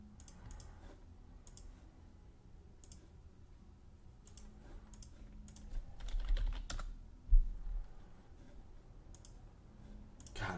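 Computer mouse and keyboard clicks tick away in a quiet room, scattered single and double clicks with a busier, louder cluster of clatter near the middle, no voices present.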